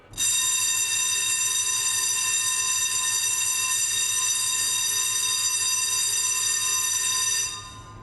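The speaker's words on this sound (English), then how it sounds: "The second form of alarm you might hear is the fire alarm, a continuous tone like this." A loud, steady electronic alarm tone with many bright harmonics sounds continuously for about seven seconds before cutting off: a ship's fire alarm.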